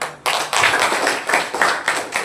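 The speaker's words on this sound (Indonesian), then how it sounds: "Oke, tepuk tangan semuanya." A classroom of students bursts into clapping together, close and lively, with a rhythmic pulse to the claps that carries on until the end, with no talking.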